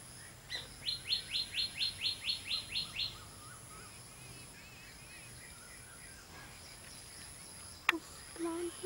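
Baya weavers building a nest outdoors, with a quick run of about ten bright, evenly spaced chirps up close, then softer scattered calls and a sharp click near the end.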